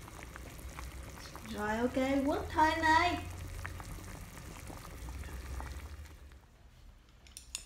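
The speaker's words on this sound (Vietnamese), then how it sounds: "Còn bên đây nồi súp đang sôi sùng sục." A pot of abalone mushroom soup bubbles at a steady boil, a close, continuous low simmering under someone speaking briefly.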